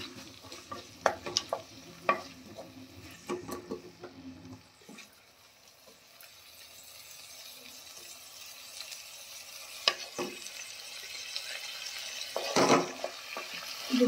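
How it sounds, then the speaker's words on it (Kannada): Chopped onions sizzle and fry in hot oil for restaurant-style paneer bhurji, with the clatter of stirring in the first few seconds, then a steady close sizzle and a few more scrapes of the spoon near the end. "ಇದು ಬ್ರೌನ್ ಆದಮೇಲೆ ಈರುಳ್ಳಿ ಈರುಳ್ಳಿ ಹಾಕುತ್ತೀನಿ. ಈಗ ಫ್ರೈ ಮಾಡ್ಕೊಳ್ಳೋಣ."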